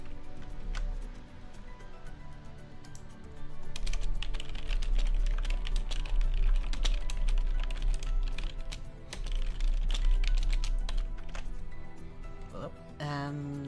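Computer keyboard typing, close and clicky, with rapid irregular keystrokes in bursts across the clip, some stretches denser than others, over a low background hum.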